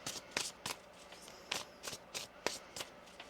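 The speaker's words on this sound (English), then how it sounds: "One more shuffle here." Tarot cards shuffled in several quick riffling bursts, each a crisp papery rattle, spaced irregularly and close by with no talking.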